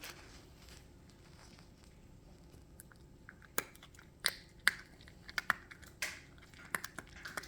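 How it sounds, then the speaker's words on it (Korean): A pet eating its food gives off faint, sporadic crunchy chewing clicks that grow a little busier toward the end, close-up over a quiet room hum. "아이고 맛있게도 먹네 천천히 먹으세요"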